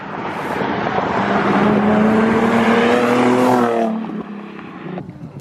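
A Nissan 370Z approaches and roars past close by on the street, engine rising then fading, with wind buffeting throughout.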